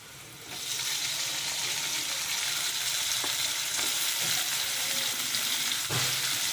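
Tomatoes with salt sautéing in a pan, frying with a steady bright sizzle throughout and a few soft stirring knocks.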